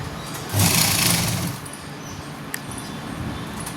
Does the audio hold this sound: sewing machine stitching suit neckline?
yes